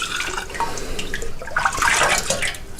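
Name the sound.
apple pie moonshine poured into mason jars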